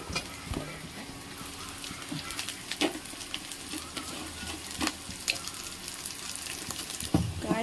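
Onions, carrots and beans sautéing in a home kitchen pan give a steady low sizzle with scattered spatula scrapes and stirring clicks, fairly close but soft throughout.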